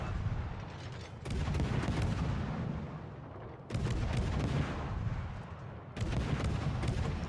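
Warship main guns firing rapidly during a naval battle in World of Warships: Legends under a reload booster, heard as three long, loud, booming barrages of overlapping blasts separated by brief dips.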